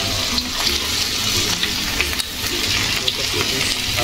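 Marinated chicken fries in hot oil for a chicken fry, a loud, continuous crackling sizzle with a few light knocks and clicks, heard alone.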